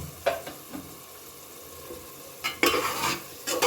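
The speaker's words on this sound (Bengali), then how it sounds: "মশলা প্রায় কষানো হয়ে গেছে মশলা থেকে তেল ছাড়তে শুরু করেছে" Masala for ghugni being stirred and fried in oil as it releases fat: a steady low sizzle broken by several loud spoon-scraping strokes against the pan, close by and with no voices.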